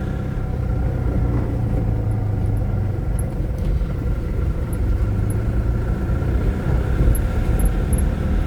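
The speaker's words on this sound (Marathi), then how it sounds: "काही काही ठिकाणी गाडी आदळून जाते." A vehicle driving through heavy rain over a potholed road in Nashik: a loud, constant low rumble of engine and road noise fills the whole stretch without a break.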